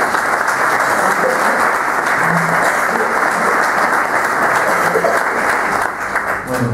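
An audience at a book presentation applauds the director of a publishing house with loud, sustained clapping that thins slightly at the end.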